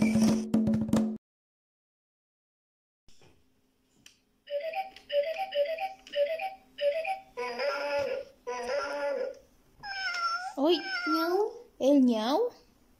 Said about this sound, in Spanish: El ñau, el gato.